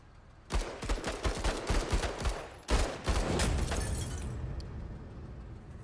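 Rapid bursts of gunfire from the tactical strategy game Menace, a dense fusillade of overlapping shots followed by a heavy blast that rings out and slowly decays, with no voices.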